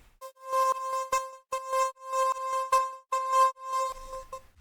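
A synth bass one-shot from a sound pack plays a stuttering, choppy pattern of bright tonal bursts with short gaps, fairly loud and close with no speech.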